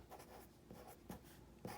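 Pencil scratching out numbers on a math worksheet in a few short, quiet strokes, close and faint in a hushed room.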